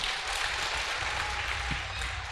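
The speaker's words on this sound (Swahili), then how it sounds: "muthuri ucio tumuhurire makofi mega muno" Church congregation at a Kikuyu service applauding their development chairman, a dense, steady wash of clapping from a crowd that carries on throughout.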